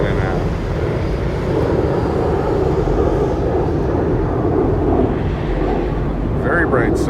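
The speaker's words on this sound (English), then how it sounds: "Plane taking off." A jet airliner takes off near Las Vegas, heard as a steady, loud roar of engines with wind buffeting the microphone, holding at an even level throughout.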